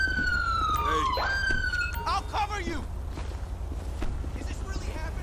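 A police car siren wails and sweeps in the video game GTA 5, then cuts off into short yelps over a low engine rumble, with people talking throughout.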